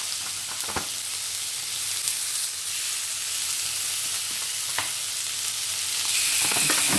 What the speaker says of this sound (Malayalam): നമ്മുടെ പാനിലോട്ട് ഞാൻ ബീഫ് ഇടുവാണേ, ബീഫിൻ്റെ സാറ്റ്